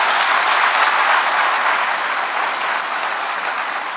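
An audience claps loudly and steadily at a university reunion gathering, a dense sustained round of applause with no voices over it, easing off slightly toward the end.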